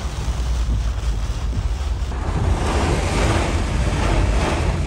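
Strong storm wind roaring through Florida with rain, a loud steady rushing and buffeting that swells partway through, with no voices.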